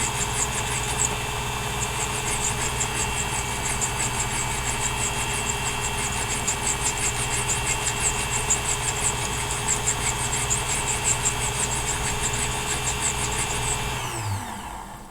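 A lathe spins while a balance staff is cut, producing a steady mechanical whir with a constant high whine, continuous and close, before it winds down at the end.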